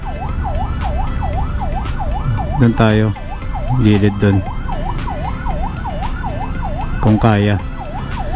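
Ambulance siren wailing steadily through traffic on EDSA in Metro Manila, a repeating rise-and-fall tone heard close and loud throughout, with someone talking over it at intervals.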